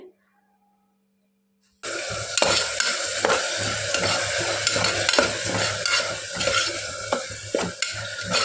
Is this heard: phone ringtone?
no